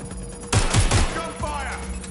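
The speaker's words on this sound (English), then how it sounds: "Gunfire!" Burst of gunfire in the video game Watch Dogs: Legion, several sharp close shots fired in quick succession and followed by a short ringing tail over steady background game sound.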